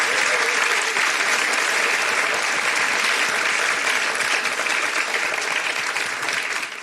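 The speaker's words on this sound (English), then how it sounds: "please give them a round of applause for staying and being with us" Audience applause at a post-show theatre Q&A, a dense, even roar of many hands clapping at steady loudness for several seconds before beginning to taper at the end.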